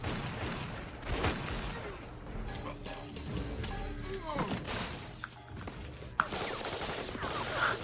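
Explosions and gunfire from a movie action scene, a dense barrage of blasts and shots with sharp bangs over a constant rumble, under talk.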